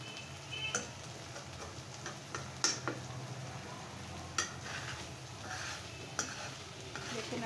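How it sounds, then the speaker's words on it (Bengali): Fish fries in a pan with a faint, steady sizzle, broken by occasional light ticks and clicks of stirring. "এই যে মাছটা দেখতে পাচ্ছ খুব সুন্দর মশমশা করে ভাজা হচ্ছে"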